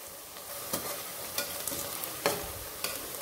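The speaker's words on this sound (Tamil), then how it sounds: "கொஞ்சம் வதக்கி விட்டுட்டே இருப்போம்." Onions sizzle steadily in a pan for vegetable biryani, with a spoon scraping and stirring in brief strokes about every three-quarters of a second, close and clear, with no talking.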